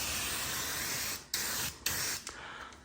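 Rust-Oleum Turbo can primer sprayed onto a budget truck's body filler spots, a steady close aerosol hiss running continuously with a few brief breaks as the nozzle is released and pressed again.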